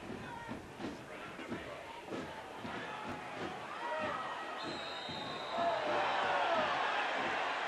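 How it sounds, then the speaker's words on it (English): Stadium crowd at a Detroit City FC versus Tampa Bay Rowdies soccer match swells into loud, angry jeering after a foul, rising toward the end over a steady background roar. "Crowd takes exception to that"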